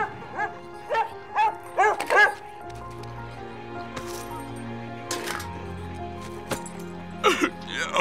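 Cartoon dog barking in a series of short, sharp woofs near the start, then sporadic clicks and cracks over a low hum, with a few more yips near the end.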